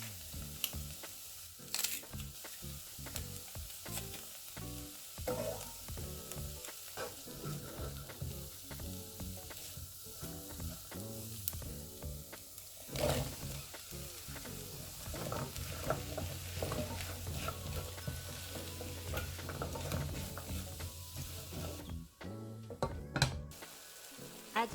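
Chopped vegetables and garlic frying in hot oil in a pan, a continuous crackling sizzle with scraping stirs and clattering utensil knocks throughout, close and steady.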